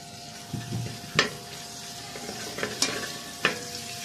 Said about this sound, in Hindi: एक पैन में ले लेंगे थोड़ा सा लहसुन, जिसको हम क्रश करके उसको थोड़ा सा पका लेंगे